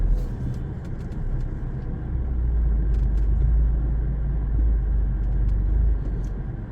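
Tata Tiago 2024 facelift with an AMT gearbox climbing a hill under heavy throttle, a steady low engine drone and road rumble swelling slightly midway, heard from inside the cabin with no talking.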